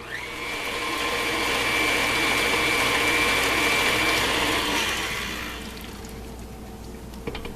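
An electric mixer whirs steadily through pie filling with sugar and spice, a loud, close motor hum with a high whine that swells, holds, then winds down near the end, followed by a few clinks, with no voices.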